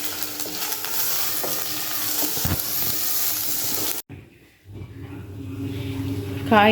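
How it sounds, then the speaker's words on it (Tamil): Grated vegetables with beetroot and onion sizzle and hiss steadily while being stirred in a frying pan, a continuous close sauté noise that briefly drops out near the end before resuming. "எல்லா காயும் ஒன்றா தான் போட்டு வதக்குறோம்."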